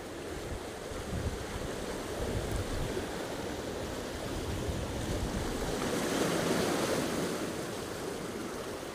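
Ocean waves break and wash onto the shore at St. John's, Newfoundland, in a continuous rushing surf, swelling louder midway, with wind noise mixed in.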